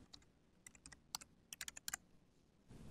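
Keystrokes on a computer keyboard as a document name is typed, about a dozen quiet, irregular taps clustered in short bursts, close and clear with no voices.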